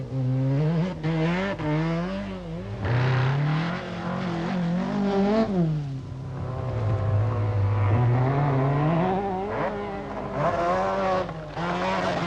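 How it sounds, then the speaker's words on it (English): A Mazda RX-7 rally car on the 1985 Lombard RAC Rally, its engine loud and near, revving hard through several gear changes with rising and falling pitch, passing by and pulling away. "Number 9, Ingvar Carlsen in the Mazda RX-7."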